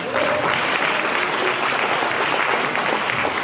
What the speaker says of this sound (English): Y'all can clap for that.